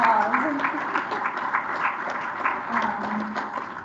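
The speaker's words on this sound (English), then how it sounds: "They deserve a round of applause." An audience at a city center pre-proposal meeting claps in a steady, moderately loud round of applause, with voices mixed in.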